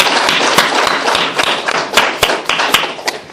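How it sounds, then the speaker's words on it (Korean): Congregation in a Korean church service claps in praise after a closing prayer. The claps are loud, fairly close and uneven, with sharp hits scattered over a steady patter that thins out toward the end. "우리 하나님께 영광의 박수 올리도록 하겠습니다."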